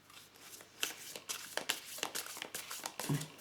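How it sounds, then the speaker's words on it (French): Tarot cards drawn from a deck, with soft papery slides and flicks in quick, irregular bursts, close and quiet with no talk. "je vais tirer d'autres cartes"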